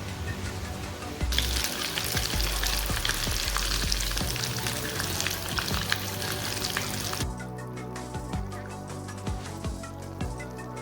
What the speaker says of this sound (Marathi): मंद आचेवरती खरपूस वडे तळून घ्या.